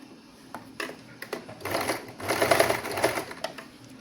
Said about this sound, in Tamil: இனி நாங்கள் ப்ளீட் எடுத்து நாங்கள் இப்படியே தைச்சு கொண்டு போகணும்